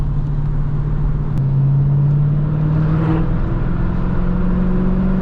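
A Dodge Challenger SRT drives through a canyon, heard from inside the car. A loud, steady low engine drone holds throughout, with its pitch stepping up and down slightly as the car changes speed. No one talks.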